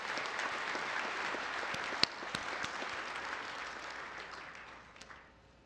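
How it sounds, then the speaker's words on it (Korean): A large audience at a national prayer breakfast in Korea gives steady, dense applause that holds evenly, then tapers off toward the end, with no talking over it. "우리 박수 한번 다시 한번 부탁드리겠습니다"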